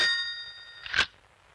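A bell-like telephone ring in a Hindi action film scene, a single bright metallic ding that fades out, followed by a short sharp clang.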